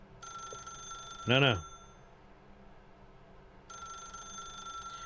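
A telephone rings in the video game The Stanley Parable, one short burst of bright repeated bell tones rising over a quiet electronic hum, with a brief spoken word nearby.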